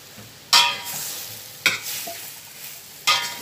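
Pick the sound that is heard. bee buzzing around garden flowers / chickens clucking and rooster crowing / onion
onion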